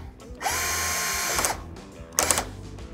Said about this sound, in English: we're gonna have to do the only reasonable thing and just drill a hole in it.